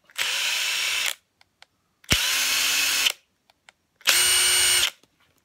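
An impact driver runs at its lowest power setting in three bursts of about a second each, a loud steady whir separated by short pauses, with no voices.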